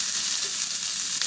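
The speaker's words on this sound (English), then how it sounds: "you hear the sizzle?" Vegan pernil sizzles steadily in a frying pan, a close, continuous crackle of frying with no voices over it.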